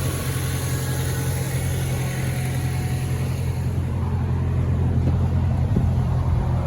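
An Acura/Honda car engine idles nearby with a whining power steering pump, a steady low hum and a constant tonal whine that hold evenly throughout with no talking.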